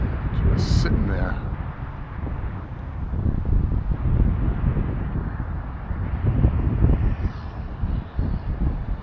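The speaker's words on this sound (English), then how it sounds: "These gusts are really getting pretty strong" Strong, gusty wind buffets the microphone outdoors at a small RC airplane flying session, a loud continuous roar that swells and eases in waves, with a brief high whine early on.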